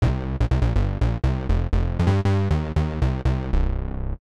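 A Korg Wavestate internal multi-sample synth bass plays a run of short, punchy notes in a steady rhythm, each decaying quickly, ending with one held note that fades out.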